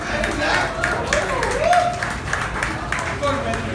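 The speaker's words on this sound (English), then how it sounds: "give a huge round of applause, everyone" An audience claps and cheers for cast members being called on stage at a film success party, a steady wash of crowd applause running under a host speaking into a microphone.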